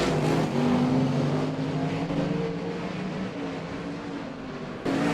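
Race cars roar around a dirt speedway during a heat race, a sustained engine drone rising and falling as the cars lap, heard at a distance with no commentary over it.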